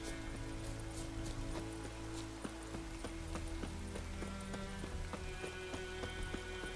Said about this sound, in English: when you're on the horse, that you can gather items and stuff